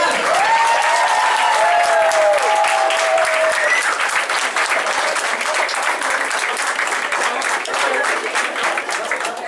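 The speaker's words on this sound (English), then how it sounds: "can you give a big applause for that?" Applause from a school crowd, loud and continuous for several seconds, with scattered cheers and whistles over the dense clapping.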